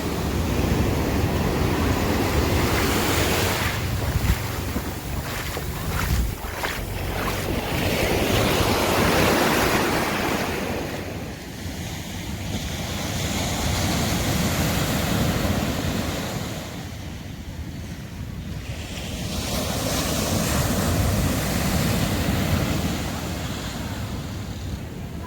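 Ocean waves breaking and washing up on a California beach on a warm day, a broad rolling roar that swells and recedes in slow surges, with wind buffeting the microphone.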